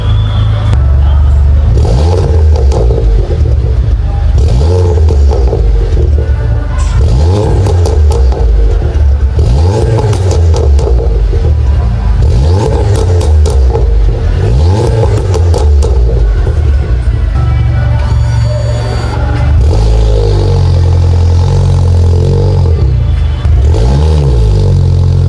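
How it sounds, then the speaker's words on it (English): Loud, close engine revving repeatedly from a Volkswagen GTI with an aftermarket exhaust, each rise and fall ending in crackles and pops from the exhaust. "this car has an aftermarket exhaust with pops and bangs"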